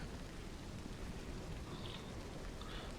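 Steady, dense rain patter in the video game Aliens: Colonial Marines fills the scene, a constant soft hiss with no breaks and no voices.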